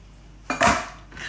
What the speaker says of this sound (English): Use your ice cream scoop.